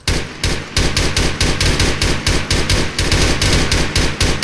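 Sustained automatic gunfire in the video game Arma during a Zeus community co-op town assault, rapid bursts of shots crackling nearly continuously and loudly, one after another.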